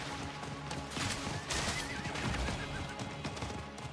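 A horse whinnies over rapid galloping hoofbeats in Diablo IV: Vessel of Hatred, busy and fairly loud, with crashing game sound effects mixed in.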